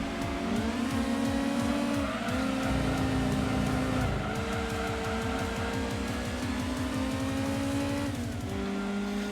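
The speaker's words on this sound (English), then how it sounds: "the Altezza in here sounds a lot different to Need for Speed Most Wanted's Altezza" Toyota Altezza engine sound from the Gran Turismo 2 racing game, revving up and down through gear changes with a steady loud tone, brief tire squeal and shifting pitch sweeps across the whole stretch.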